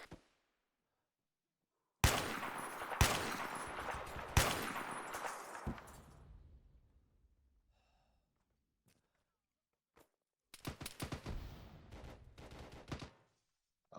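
Gunfire from the video game Arma 3 comes in sharp bursts of rapid shots separated by near silence, with a faint breathy voice sound between them.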